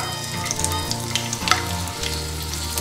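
Garlic cloves and ginger frying in hot oil, a steady close crackling sizzle lasting throughout with faint stirring scrapes, no voices.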